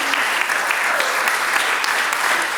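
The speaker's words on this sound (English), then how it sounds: "one more round of applause for these awesome actors" An audience at a school play claps for the young actors, a dense, even wash of applause held steadily throughout with no voices standing out.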